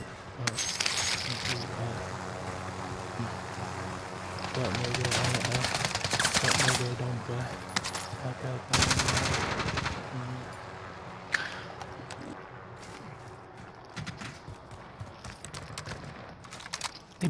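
AK rifle fire in a video game, crackling bursts of rapid shots that come in clusters with brief pauses, loud and close, alongside other scattered game effects.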